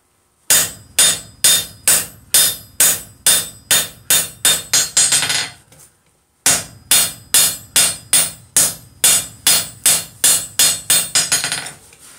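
Hot steel for a vice is hammer-forged at a live forging demonstration: two runs of about a dozen loud, sharp, ringing hammer blows each, quickening toward the end of each run, separated by a brief pause.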